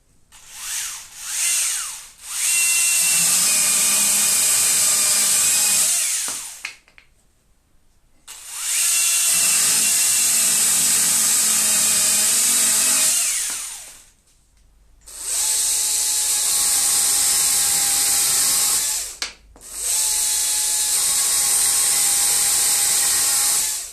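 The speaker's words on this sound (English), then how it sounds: "the Stihl just goes through it like butter" Stihl and Husqvarna battery-powered telescopic pole saws cut through wood, each run a loud, steady high-pitched whine of about five seconds, separated by short quiet gaps.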